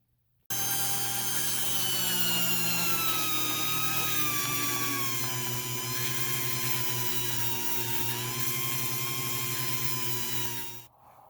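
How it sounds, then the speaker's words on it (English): A high-pitched Dremel with a sanding bit grinds metal steadily at close range, a continuous whining buzz with a shifting tone that runs for about ten seconds before stopping; the work is on a cracked Honda Civic/CRX transmission case. "So we're going to do that with a Dremel. Just going to use a sanding bit on there and just grind it all down."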